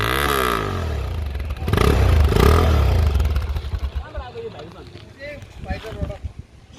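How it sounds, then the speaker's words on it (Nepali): A modified Bajaj Pulsar 220F motorcycle exhaust revs loudly up close, rising in two strong bursts before settling to a rougher, fluttering idle, with wind buffeting the microphone. "अब एक्जस्टको साउन्ड है त"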